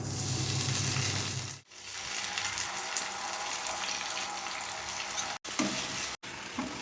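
Boiled, peeled sweet potato and curry leaves fry in a pan, a close, steady sizzle with light stirring and watery crackle, cut off abruptly by a few brief silent gaps.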